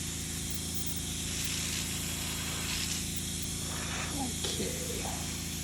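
Aerosol spray paint hissing onto a display base, a steady close broadband hiss running throughout over a constant low background hum, with brief faint clicks and knocks near the end.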